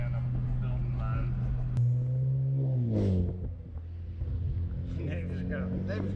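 A BMW turbo engine idles close by after a cold start, a steady low drone with a brief swell in pitch midway, as people talk over it.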